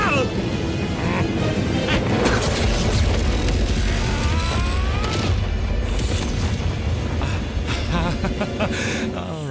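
A cartoon death ray fires and explodes in a dense, loud boom and crash, with rumbling blasts, whooshes and tonal effects layered under excited voices talking over it.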